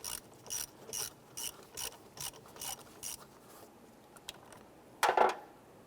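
A hand ratchet loosens the positive battery terminal nut on a 1995–2001 Ford Explorer, giving eight or so quick rhythmic clicking strokes, close and clear, followed by a brief scraping rattle as the clamp comes off.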